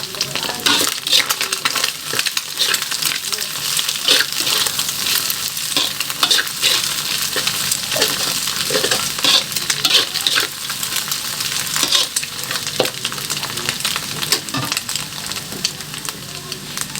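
Fried noodles tossed in a pan with spring onion and shallots, a continuous oily sizzle broken by repeated scraping and clinking of a utensil against the pan, close and loud with no talk.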